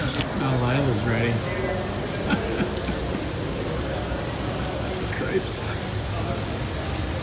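Steady rain patters on surfaces outdoors during a motorcycle rally trip near Sturgis, an even hiss throughout, with a voice briefly audible near the start.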